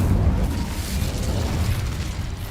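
Incendio fire spell in the game Hogwarts Legacy, a loud dense whooshing blast of flame with a deep rumbling boom that roils steadily for a couple of seconds, no voices.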